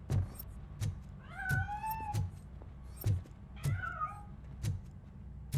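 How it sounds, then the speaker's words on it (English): A cat meows repeatedly inside a building in the video game RoboCop: Rogue City, giving several clear, rising and falling cries over soft thumping game ambience, with no voices present. "That cat must be hiding inside."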